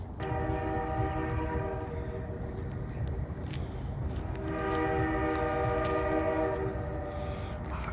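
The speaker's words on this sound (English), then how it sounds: "I think I hear the choo-choo train." Distant train horn sounding in long sustained harmonic blasts, first and second sounding across open city air from a downtown overlook in Eugene, Oregon, with faint outdoor ambience and footsteps underneath.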